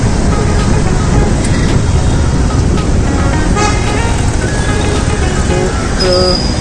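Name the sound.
heavy road traffic on a city street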